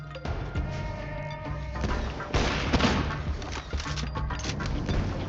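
Continuous gunfire in the video game RimWorld with sharp shots, thuds and crashing impacts, busy and loud, with occasional booms mixed in.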